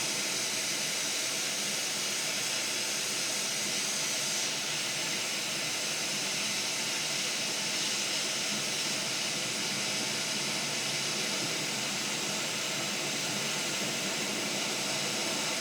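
A hot air rework station blows steadily over a thick Xbox Series X motherboard to melt solder around the HDMI port, a constant broadband hiss and rush that holds at an even level throughout with no talk.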